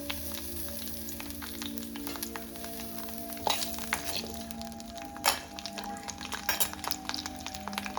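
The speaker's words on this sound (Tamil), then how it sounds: "ஆயில் ஹீட் ஆனோன்னா நம்ம உரிச்சு வச்சுருக்க ஒரு 10 சின்ன வெங்காயம் இருக்கு இல்லையா, அதை நம்ம இதில் ஆட் பண்ணிக்கலாம்." Ten small peeled shallots dropped into hot oil sizzle and fry steadily, with a few sharp crackles and pops rising over the constant hiss, no voices.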